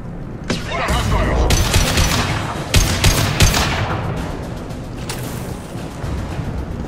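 Heavy gunfire from Blue Suns mercenaries and Vorcha in Mass Effect, loud sustained bursts of automatic fire with sharp cracks and booms, dense and close throughout.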